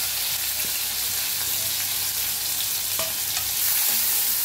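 Cumin, green chilli, garlic and onion fry in hot oil in a pan, a steady close sizzle with occasional stirring scrapes and small pops throughout, no voices.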